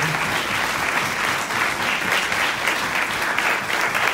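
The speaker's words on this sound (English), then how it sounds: "let's give a round of applause to our Q&A panel" An audience claps loudly for a question-and-answer panel at a physique-sport summit, with dense, sustained applause filling the room throughout.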